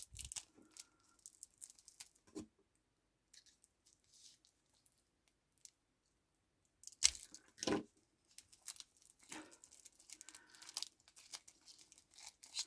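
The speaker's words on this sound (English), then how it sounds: "Sticker peeling isn't my idea of a ASMR experience" A sticker is peeled off unboxing packaging with faint, scattered tearing and crinkling, quiet pauses in between and a busier cluster of crackly rips later on, close up without talking.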